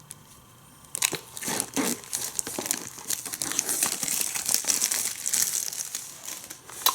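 Plastic wrapping crinkles and tears off a DVD box set for the Dennis the Menace complete animated series, a steady run of close crackling and ripping after a brief quiet start.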